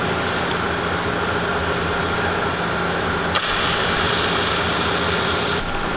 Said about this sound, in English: You can tell the pump is starting to slow down pretty good now.